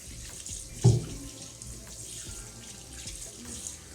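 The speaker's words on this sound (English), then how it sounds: "And I wash my hands with lukewarm water." Lukewarm tap water runs steadily into a sink while hands are washed, a continuous soft splashing with one brief louder splash near the start, close and unaccompanied by talk.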